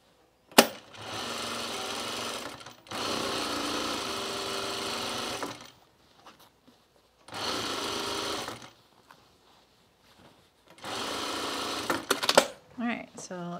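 Sewing machine stitching a bomber jacket in four loud, fast runs of continuous whirring, each lasting a couple of seconds and separated by quiet pauses with faint handling noises.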